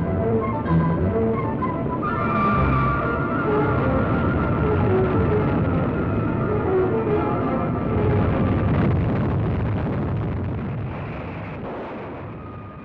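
A Titan I ICBM rocket launching, a loud, sustained roaring rumble that holds steady for several seconds before slowly easing off toward the end.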